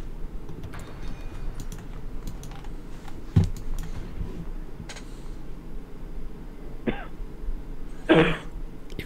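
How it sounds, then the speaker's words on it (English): A man coughs a few times during a Hearts of Iron IV multiplayer session, with soft computer keyboard typing and clicks underneath; the coughs are short, close and moderately loud. "You've got some cough there, man."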